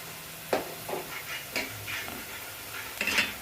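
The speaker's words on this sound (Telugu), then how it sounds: "ముందుగా ఆనియన్స్ని ఆయిల్లో వేసుకుని బాగా ఫ్రై చేసుకోవాలి" Onions fry in oil in a home kitchen pan while cooking coconut rice, with a soft, steady sizzle and several sharp scrapes and clinks of a spoon stirring against the pan, close and without speech.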